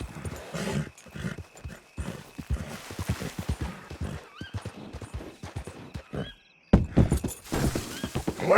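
A horse in the video game Red Dead Redemption 2 trots with steady clip-clop hooves throughout, joined by a whinny, the footfalls close and rhythmic.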